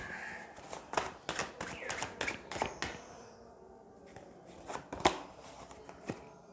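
Tarot cards are handled and laid down on a surface during a reading, giving a quick run of soft, close slaps and flicks, then a pause before a few more scattered taps.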